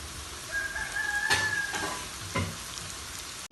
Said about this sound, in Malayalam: ഒരു ഭാഗം ഒന്ന് ഫ്രൈ ആയപ്പോൾ മറിച്ചിട്ട് കൊടുത്തിട്ടുണ്ട്.